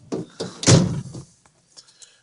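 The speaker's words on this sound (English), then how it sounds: "We'll go ahead and shut the door." A car door shuts on a 1965 Buick Electra 225, giving a loud, close thunk followed by a few fainter knocks and rattles as it settles.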